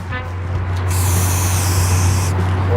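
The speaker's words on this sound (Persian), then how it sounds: "خیلی هم اسپریو نزدیک دیوار نکن" A spray paint can sprays graffiti onto a wall in one loud, steady hiss of about a second and a half, close up, over a constant low background hum.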